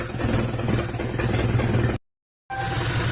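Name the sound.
car engine idling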